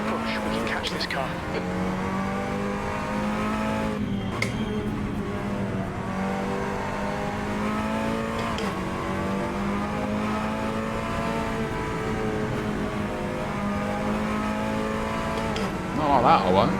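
A Seat Cupra TCR race car engine in Assetto Corsa at Laguna Seca drones and revs steadily, rising and dipping through gear changes with brief tire squeal, while someone talks over it.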